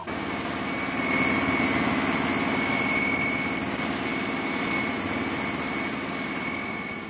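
Airliner touching down and rolling out at Orly airport in thick fog in 1971, a loud continuous jet engine roar with a steady whine, swelling slightly then easing, with no talk.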